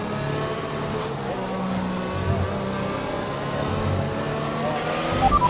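Formula 1 cars with Mercedes and Renault engines racing in the F1 2021 video game, a steady high engine drone under a game soundtrack that swells slightly near the end.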